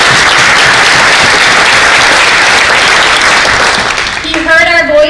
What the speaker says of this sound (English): So I want you to applaud him.